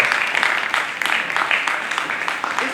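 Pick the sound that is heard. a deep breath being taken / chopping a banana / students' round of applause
students' round of applause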